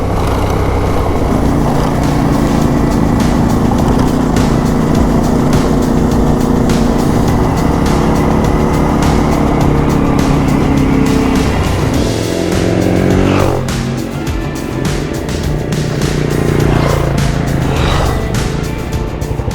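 An adventure motorcycle ridden on a dirt backcountry road, its engine droning loud and steady throughout with wind rush and gravel noise and a brief shift in pitch partway through.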